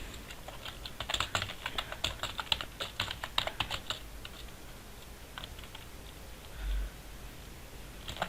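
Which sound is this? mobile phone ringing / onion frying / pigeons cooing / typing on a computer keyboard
typing on a computer keyboard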